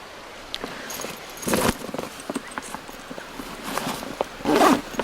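A zipper on a Patagonia Black Hole duffel bag being closed in a rainforest, in two quick rasping pulls separated by soft rustling and handling noise.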